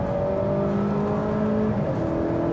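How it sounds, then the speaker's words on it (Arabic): A 2018 Toyota Camry Sport's 3.5-liter V6 holds a steady, smooth drone with a slight rise in pitch toward the end, close and continuous, with no voices. "بس صوت هذا المحرك برجع بقول فعلاً صوته كتير حلو"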